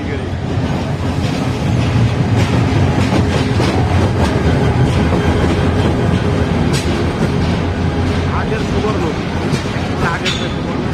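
Kalni Express intercity train pulls into Kamalapur station with continuous loud rumbling and clattering wheels, steady rail noise filling the whole stretch with scattered metallic clicks and people talking faintly underneath.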